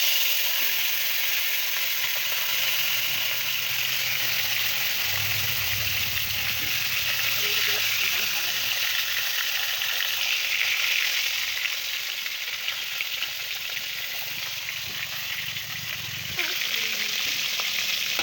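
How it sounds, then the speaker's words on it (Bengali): Fish fries in a pan in a home kitchen, a steady, close sizzle and crackle that runs without a break and swells briefly midway. "ফাইনালি মাছটা এই যে ভাজা হয়ে গেছে।"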